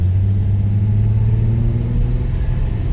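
A Holden VY Calais engine revs hard and strains at a steady high pitch, stuck in first gear, droning loudly nearby with little change in speed.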